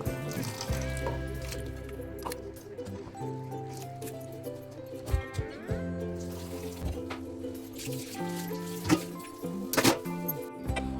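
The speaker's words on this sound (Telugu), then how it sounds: "కొంచెం వాటర్ పోసి బాగా కడిగేసుకొని ఆకంతా కూడా ఒక గిన్నెలోకి తీసేసుకోవాలి" Tamarind leaves being washed with water, with running and splashing water, clattering knocks against a vessel and scattered drips at close range, fairly soft and uneven over the whole stretch.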